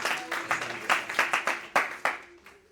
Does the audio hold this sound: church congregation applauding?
yes